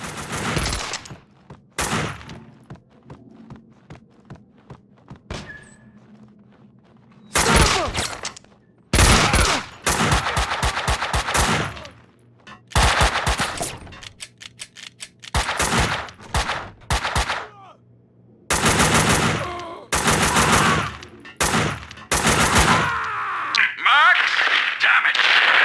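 Gunfire in the 2003 PC game Max Payne 2: The Fall of Max Payne, loud rapid bursts of automatic shots in repeated volleys separated by quiet gaps, close and sharp.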